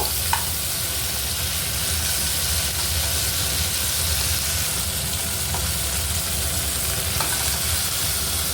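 Steady, dense sizzle of tiger prawns frying in hot oil, a continuous crackling hiss with a few faint clinks, close by and without talk.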